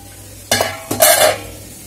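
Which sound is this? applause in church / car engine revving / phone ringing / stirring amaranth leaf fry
stirring amaranth leaf fry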